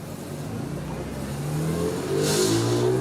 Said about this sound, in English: This next group, the 5 and 6 cylinder boosted cars going out on track now.